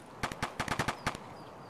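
A burst of about nine sharp gunshots in Escape from Tarkov, fired quickly in an uneven rhythm and heard at moderate distance with no talk over them.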